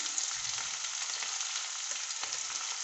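Onion, green chili, garlic and curry leaves fry in hot oil for a mushroom masala, a steady close sizzle with faint stirring scrapes, alone without talk.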